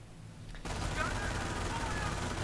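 Machine gun fire in the video game Company of Heroes, a dense, steady roar of rapid shots starting abruptly and continuing loud and unbroken, with faint battle noise in the background.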